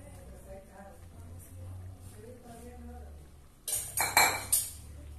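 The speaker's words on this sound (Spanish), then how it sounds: "vamos a echarle ahora el arroz" Rice poured into a cooking pot while making locrio de salinas: quiet voice and background at first, then a cluster of sharp clinks and rattling grains in quick bursts near the end.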